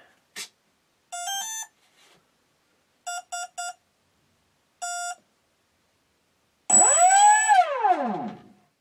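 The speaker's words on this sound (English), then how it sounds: "The ESC has a rather neat trick where it beeps a number of cells that it detects, so three beeps of 3S" An RC model aircraft's electronic speed controller sounds a start-up melody, then three short identical beeps marking a detected 3S battery, then a fourth beep, on a Dynam Tiger Moth build, followed by a sweeping motor whine; clean and close with silences between.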